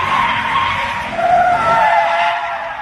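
A U-Haul truck drifting in a burnout, tires skidding and squealing loudly and steadily for about three seconds, with the engine roaring underneath and no talk.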